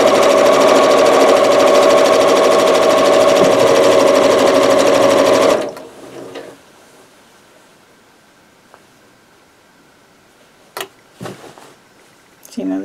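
A sewing machine stitches a quilt row in a loud, fast, continuous whir for about five seconds, then stops, leaving faint rustles and a few soft knocks.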